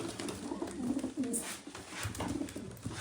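Grey, smoke-coloured male pigeons coo in a few soft, rolling bursts close by, with a quiet stretch between calls and no talking.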